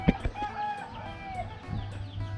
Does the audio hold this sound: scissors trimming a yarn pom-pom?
no